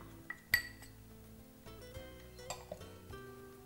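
Egg mixture is beaten with maida in a bowl, giving a few sparse, quiet clinks and taps of utensil against the dish in an otherwise hushed kitchen.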